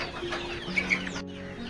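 Farm chickens being dewormed give a few close, short clucks and squawks in a brief burst.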